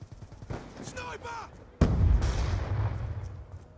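MP7 submachine gun firing in Call of Duty: Black Ops 2, a sudden loud burst of gunfire with a lingering rumble, preceded by a brief voice and quieter game sounds.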